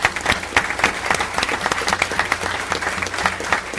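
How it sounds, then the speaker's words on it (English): An audience at a school district annual report breaks into sustained applause, many hands clapping in a dense, even wash that stays loud and steady throughout, with a few faint voices mixed in. "So that deserves a huge round of applause for all of our schools."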